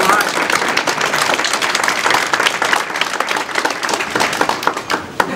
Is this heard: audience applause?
yes